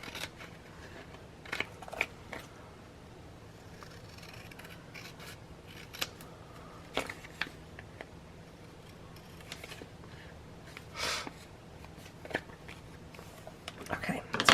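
Scissors snip through paper in short, crisp cuts at irregular intervals, close and moderately loud over a quiet background, as part of a paper craft project with photo mat inserts.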